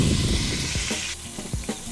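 Meat searing in a hot pan gives a close, steady sizzle with a few soft thumps and crackles as it settles, fairly loud and with no talking over it.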